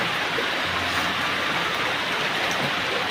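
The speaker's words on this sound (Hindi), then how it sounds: "देखो अभी बहुत नॉर्मल से बारिश हो रही थी, बट अभी चक्कर नॉर्मल है क्योंकि तेज़ हो चुकी है" Heavy rain pours down in a dense, constant hiss that stays loud and unbroken, with no speech over it.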